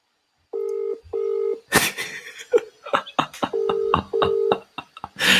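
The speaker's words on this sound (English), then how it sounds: "Phone's ringing." Outgoing phone call ringing tone, four paired tone bursts heard close, with laughter and voices breaking in between the later rings.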